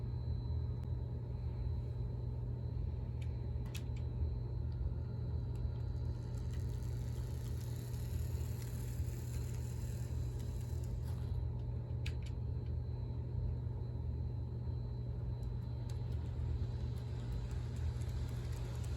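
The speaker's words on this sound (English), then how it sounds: "let's add some passenger cars to this train and see how well it" An HO scale Proto 2000 EMD E7A diesel model locomotive in Chicago Northwestern livery pulling passenger cars, giving a steady low motor hum and rumble with faint wheel clicks throughout, close and even.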